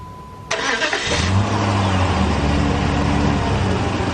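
A Jeep 4x4 cranks and fires up after a short silence, settling into a steady, loud running idle with a low rumbling drone that continues to the end.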